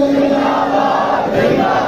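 Large crowd at a religious conference in Khewra chanting the Tajdar-e-Khatm-e-Nabuwwat slogan in unison, a loud, dense mass of voices held steady across the whole moment.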